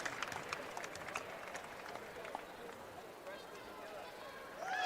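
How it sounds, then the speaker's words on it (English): At a girls' state basketball semifinal, the Dowling Catholic crowd claps for its players in scattered, moderately distant bursts while a commentator talks over it. "The Dowling crowd congratulating some of their players who had a fantastic season for the Maroons."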